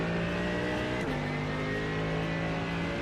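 A GTE race car in the iRacing sim, heard from the cockpit: a steady droning engine note with a brief dip partway through, as at a gear change, then it carries on evenly.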